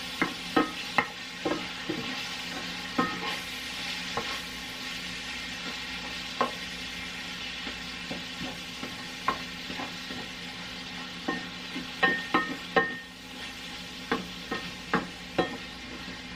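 Ground beef cooking in a pan for pasta sauce, with a steady sizzle broken by repeated knocks and scrapes of a spoon stirring the meat, close and fairly loud, with no voices.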